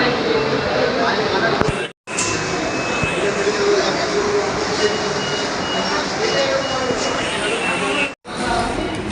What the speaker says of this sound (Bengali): তো বন্ধুরা আমরা এখন আছি মেট্রো স্টেশনে